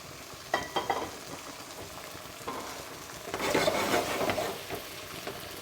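General Tso's chicken sits in its sauce in a pan, sizzling steadily with scattered stirring scrapes, then flaring into a louder, fuller sizzle partway through, close and without talk.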